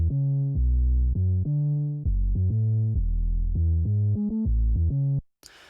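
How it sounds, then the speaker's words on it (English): An 808 bass from the 808 Gods plugin plays a melodic line of deep, booming sustained notes with gliding pitch, loud and alone, cutting off near the end. "Then there is this bass that comes into it"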